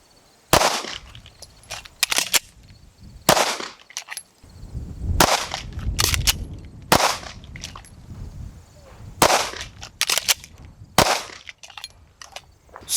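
A SIG P320 pistol with a Wilson Combat grip module is fired on a range during a shoot-one, reload, shoot-one drill. Sharp, loud single shots come in spaced pairs, with handling noise and faint rustling between them.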